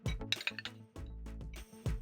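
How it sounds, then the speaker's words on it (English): Eggs are cracked against a hard rim for egg wraps, giving a few sharp glassy clinks and knocks in quick succession, close and clear, with no talk. "Crack in eggs, add in tomatoes."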